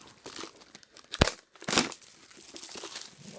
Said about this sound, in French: Si je le déballe et que je vous montre l'intérieur.